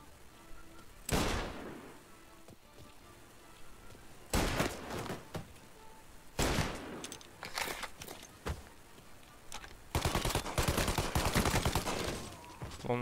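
Bursts of gunfire in Mafia: Definitive Edition, several separate volleys of rapid shots with quiet gaps between them and a longer sustained burst near the end.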